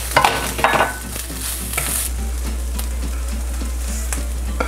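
Spinach cooking in a hot pan, a close steady sizzle with a couple of brief stirring clatters at the start under a constant low hum.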